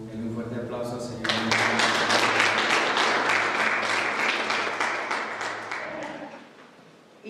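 Congregation giving a strong round of applause, dense clapping that swells after a moment of speech, holds for several seconds and then fades out.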